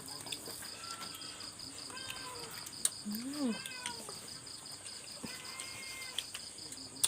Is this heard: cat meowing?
yes